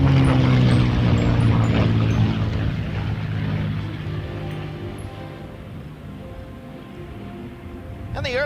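A TF-51 Mustang, a Temco dual-control propeller warbird, flies past at a London, Ontario airshow. Its engine drone is loud at first, then fades steadily into the distance, with a commentator talking over it.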